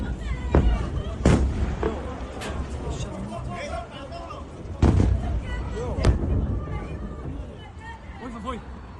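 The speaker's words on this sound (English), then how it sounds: "We hear the explosions of the Iranian missiles in the distance" Several deep booms and sharp blasts of Iranian missiles exploding in Israel echo from a distance at irregular intervals, with a crowd's murmur and chatter running underneath.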